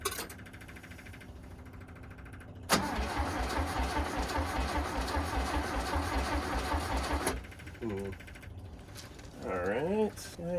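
A neglected 1970s VW bus engine cranked through an improvised starter switch: a loud, steady whirring crank of several seconds that cuts off abruptly, followed by brief mechanical clicks and whines, with talking nearby.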